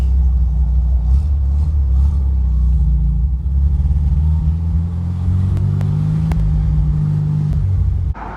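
A 1981 Sbarro Baby Ferrari putters around a parking lot, its small engine rumbling low and steady up close, rising and falling gently with a few light clicks near the end.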